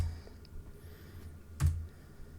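A few quiet clicks of typing on a computer keyboard, sparse and faint against a low background hum.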